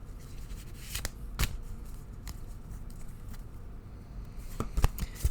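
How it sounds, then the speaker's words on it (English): Wildwood Tarot cards being shuffled by hand, a steady papery riffling and rubbing with a few sharper card slaps, close and continuous with no talking. "I shuffle until Spirit asks me to stop."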